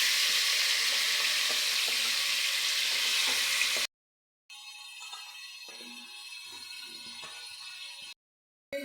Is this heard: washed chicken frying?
yes